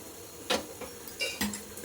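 A metal bowl set on a stove beside a simmering curry gives a few soft clinks and taps, quiet and close, without any talking.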